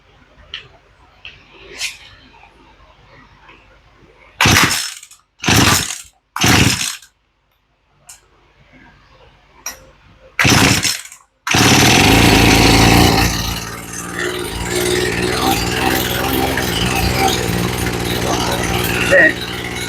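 A Poulan Pro chainsaw fitted with a new carburetor is pulled several times in short sharp bursts, then catches and settles into a loud, steady running drone that continues to the end.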